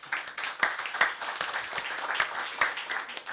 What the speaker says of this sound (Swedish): Jag tycker vi ger dem en varm välkomnande applåd.